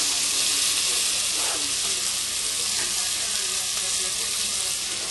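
Onions frying in a hot pan while venison tenderloin filets cook, a loud, steady hissing sizzle close up that continues without break.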